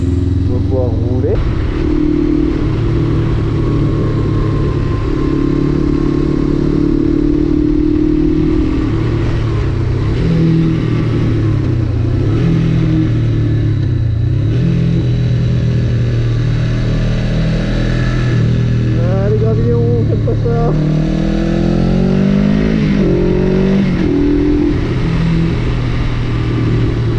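A 1996 Suzuki GS500E motorcycle is ridden on the road, its engine droning loudly and steadily with rising and falling revs through gear changes, close to the rider, under wind noise and some talking.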